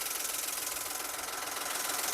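A 2022 Citroen C3 with its 1.2-litre three-cylinder engine idles quietly and steadily, a faint even mechanical hum with a slight regular pulse and no talking.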